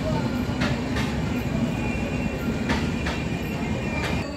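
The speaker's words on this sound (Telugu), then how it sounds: "ఈస్ట్ కోస్ట్ ఎక్స్ప్రెస్ అయితే పిఠాపురంలో ప్లాట్ఫామ్ 1కి అయితే రీచ్ అయింది." The East Coast Express draws into platform 1 at Pithapuram station in India, with a continuous rolling rumble of rail wheels and faint periodic clacks, steady and close throughout.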